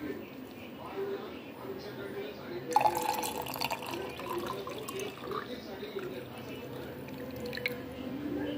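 Water is poured into a glass of sweet crush drink, a faint trickling splash that grows fuller partway through, with a person talking in the background.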